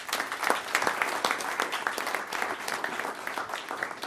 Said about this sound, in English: So let's have a nice round of applause for Carrie Weldon.